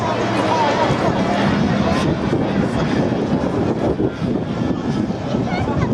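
Aircraft passing at a 2014 seaside air show in Clacton-on-Sea, Essex: a steady, loud engine roar that fills the whole clip, with a commentator talking over it.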